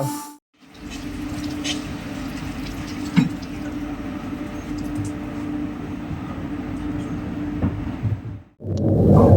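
Steady rumble and rattle of the Pandian Superfast Express running nonstop on rails between Chennai and Madurai, heard from inside as a continuous loud roar with faint clicks, no talk.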